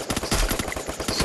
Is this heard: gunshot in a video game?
yes